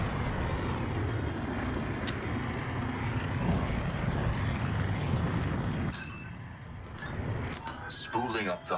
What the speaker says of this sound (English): Spooling up the hyperdrive.